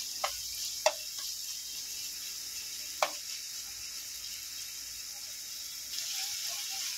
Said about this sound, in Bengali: হালকা বাদামি করে ভেজে নেব পেঁয়াজটা।